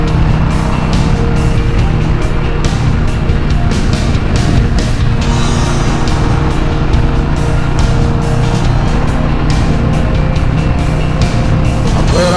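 A 2024 Harley-Davidson Road Glide motorcycle accelerating on an open road, its engine droning loud and steady with rising rumble and heavy wind noise throughout.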